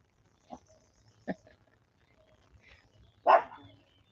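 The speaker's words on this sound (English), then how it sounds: "Why are we barking?" A dog barks three times, two short yips early and a louder, fuller bark near the end, with quiet pauses between.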